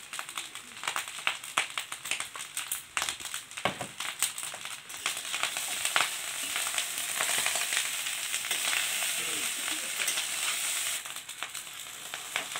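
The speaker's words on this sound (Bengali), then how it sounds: "আমার ভাত ভাজা হয়ে গেছে।" Cooked rice fries with turmeric, garam masala and salt in a pan, a continuous crackling sizzle that grows denser and more even over time, with scattered scraping stirs early on and no speech.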